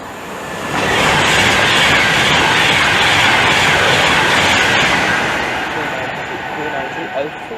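A Glasgow-bound passenger train on the West Coast Main Line at Hemel Hempstead passes close by, a loud sustained roar with rhythmic wheel clatter that swells quickly, holds for several seconds, then eases away.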